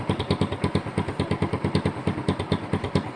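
Motorcycle fitted with an open kalkal exhaust pipe runs close by, its loud, rapid, evenly spaced popping thumps pulsing steadily without any talk.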